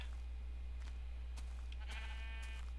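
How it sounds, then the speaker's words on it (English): Several sheep bleat in the Minecraft video game, a few short bleats spaced apart over a steady low electrical hum, quiet and soft, with no talking. "Lots of sheep."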